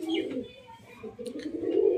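Male Giribaz pigeon cooing while courting a female, repeated low rolling coos close by, with soft chirps and background noise.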